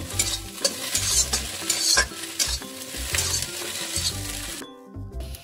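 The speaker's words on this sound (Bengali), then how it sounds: "এবার 2টো ডিম ভেজে নেব।" Eggs fry in a pan with crackles and sizzles over backing music, with a spatula stirring and an occasional clink against the pan; nobody talks.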